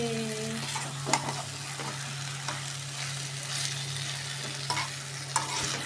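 Meat frying in a wok (kadai) for a home-style curry, with a steady sizzle and a few sharp scrapes of the spatula stirring it, close and continuous.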